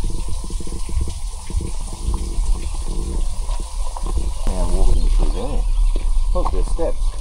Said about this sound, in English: So the water actually runs along the creek there.